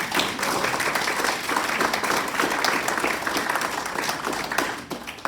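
Audience applause after a reading at a book talk, a dense, steady wash of many hands clapping that holds for several seconds before thinning out near the end.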